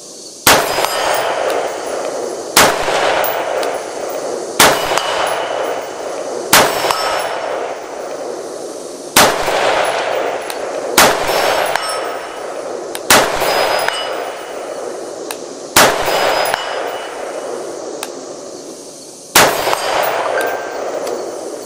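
Rifle shots at an outdoor range, each followed by the bright metallic clang of a struck steel target, about nine loud impacts spaced a couple of seconds apart with ringing decay between them.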